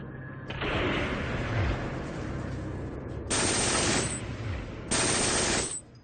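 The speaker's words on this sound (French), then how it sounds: "Parmi les armes des nazis, une mitrailleuse dévastatrice, la MG-42." German MG-42 machine gun firing in long, extremely rapid bursts, three loud tearing volleys separated by short pauses, harsh and close with a ripping rattle and no talk.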